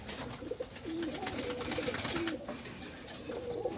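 Benarasi Kaldom pigeons coo softly in repeated low calls against a steady background hiss of ambient noise.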